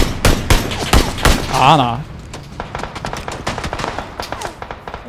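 Gunfire in PUBG Battlegrounds on the Miramar map in a squad match: a string of sharp, loud shots crackles in the first two seconds, then lighter distant pops continue, with someone talking excitedly over it.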